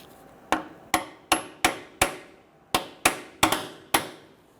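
Metal hammer strikes driving a rear wheel bearing seal into the axle tube of a 2006-2010 Hummer H3, about ten sharp ringing blows in an uneven rhythm, close and loud, with no talking.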